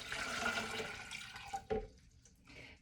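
Water pours into a blender jar with a broad, rushing splash that fades into softer trickles and a brief knock near the end, moderately loud and close, with no voices.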